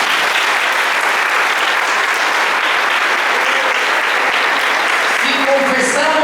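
A church audience gives a loud, sustained round of clapping for the Lord, many hands beating densely at an even level, with faint voices and a tone or two surfacing near the end.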